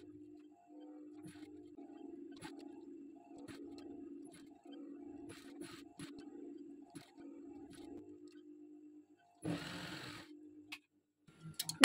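Sewing machine running in steady stitching bursts along the side seam of a boat-neck blouse, fairly quiet with a regular mechanical ticking, pauses between runs and a brief rustle of fabric near the end.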